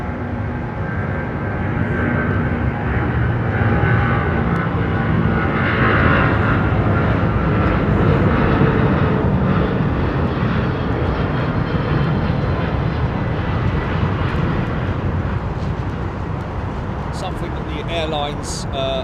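Jet aircraft engines at London Heathrow Airport, a loud continuous broadband roar sustained throughout, with someone talking over it.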